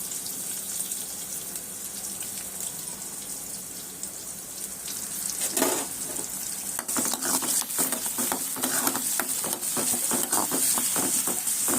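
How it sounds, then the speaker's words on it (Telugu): Tempering fries in a pan for a ridge gourd and tomato curry, giving a steady close sizzle with louder crackling bursts and stirring in the second half. "తాలింపు వేగిపోయింది"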